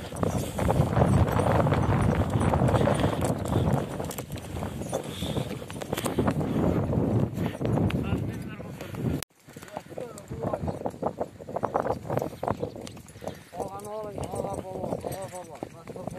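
Horses' hooves clip-clop steadily on the ground at a horse market where the animals are being sold, heard at moderate distance amid wind and crowd noise, with people talking throughout and a horse whinnying near the end.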